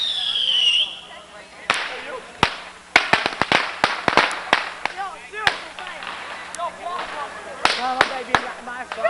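Fireworks and firecrackers go off on a city street in Astoria on Independence Day 1991. A whistling tone fades, then sharp bangs and crackling pops burst in rapid, irregular clusters, loud and close, with people's voices mixed in.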